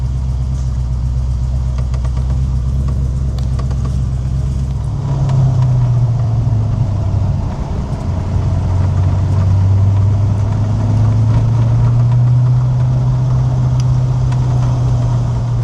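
An Ultima GTR sports car drives along on a spring road trip to its MOT, its engine a steady, loud low drone that rises in pitch as it accelerates and shifts, with no talking over it.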